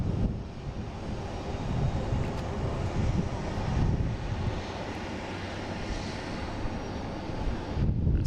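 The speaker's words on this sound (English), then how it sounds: "I get United heading to Houston. At 737, flight 1183." A United Boeing 737 at Boston Logan airport gives a steady low jet engine roar with wind buffeting the microphone, continuous and fairly distant, with no talk.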